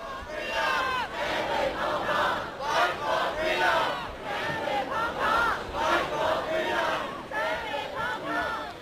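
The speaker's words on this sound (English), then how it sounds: "Fight for freedom, stand with Hong Kong is what they're saying" A crowd of pro-democracy protesters in a Hong Kong city-centre park chants a rhythmic slogan in unison, repeated rising phrases at a distance with crowd noise underneath.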